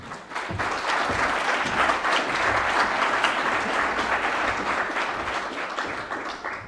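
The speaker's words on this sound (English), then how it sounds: "I hope you will greet him with your warm applause" Warm audience applause at a conference event at CSIS in Washington, a dense, steady clapping from a crowd that rises quickly, holds for several seconds and tapers slightly at the end.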